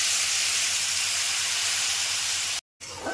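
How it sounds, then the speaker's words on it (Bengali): Water poured into spice masala of turmeric, chili and coriander powder in a hot pan sets off a loud, steady steaming sizzle that hisses on, briefly cuts out, then resumes. "এরপর এর মধ্যে দিয়ে দিচ্ছি 1/4 কাপ পরিমাণ জল।"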